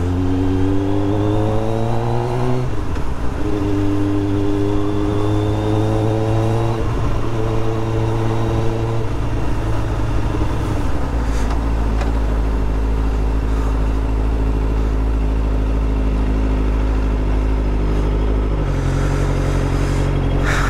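A sport bike ridden through Hong Kong streets, its engine droning and rising through several revving climbs with gear changes, loud and close throughout, with traffic clatter around it.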